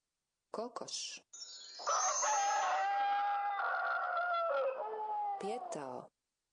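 A rooster crows in one long, loud cock-a-doodle-doo that rises and holds before trailing off, close by, framed by brief sharper sounds at the start and end.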